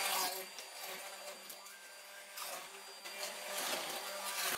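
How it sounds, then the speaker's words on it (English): A handheld stick blender whirs steadily as it purées butternut squash and apple soup in a pot, a continuous motor drone that rises and thickens near the end, close and fairly loud with no talking. "now I'm going to take my stick blender"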